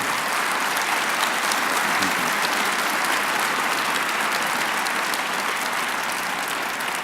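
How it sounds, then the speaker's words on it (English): Audience applause for two presenters at a Hammond Institute event at Lindenwood University, a steady, even wash of many hands clapping from start to finish with no break. "Let's give our two excellent presenters another big round of applause."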